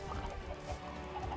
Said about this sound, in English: Speaking of chickens walking around everywhere.